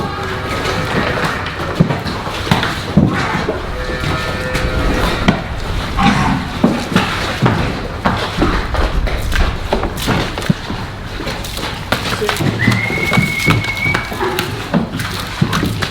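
Dairy cows tramp through a hoof foot bath in a shed, giving irregular heavy thuds and splashy clomps from hooves, with clanks and occasional short moos amid the steady shuffling.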